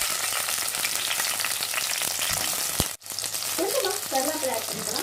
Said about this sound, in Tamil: இது நம்ம வெங்காயம் ஆட் பண்ணிக்கலாம்.